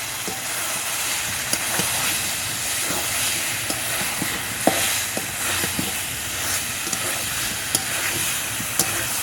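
Fried jackfruit pieces sauté with spice paste in oil, a loud, steady, close sizzling hiss with occasional sharp crackles and pops throughout.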